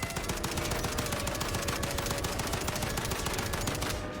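FAL rifle firing in a multiplayer shooter video game, with rapid, loud repeated shots over about four seconds in a continuous stream of gunfire.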